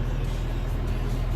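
A John Deere 6310 tractor driving through snow and sleet, its engine a steady, loud low rumble with no talk.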